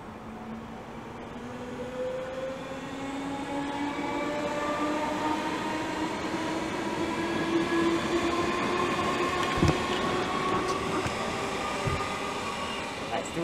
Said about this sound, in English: And now departing is 2 Juliet 67, the 11:28 Great Northern service to Moorgate.